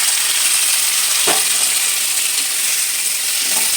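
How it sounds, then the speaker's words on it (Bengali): Steady, loud sizzling of jackfruit frying in hot oil used for frying prawns, with an occasional stir or scrape, no voices. "একটু লাল লাল করে এঁচোড়টা আমি ভেজে নেব"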